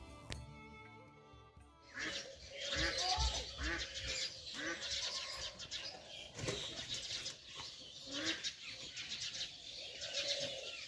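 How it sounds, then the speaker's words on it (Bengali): Ducks quack, chickens cluck and birds call in a lively dawn chorus, with wings flapping now and then, busy and fairly close, no talking. "পাখিগুলো হাঁসগুলো মুরগিগুলো যে যার ডাক দিতে শুরু করে দিয়েছে"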